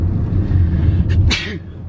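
A single sharp sneeze bursts out near the end, over a steady low rumble of background noise.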